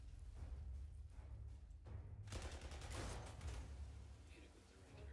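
Artillery firing in the strategy game Panzer Corps II, a run of overlapping gunfire bursts rolling into a louder blast of shots in the middle, fairly quiet overall with a low rumble beneath.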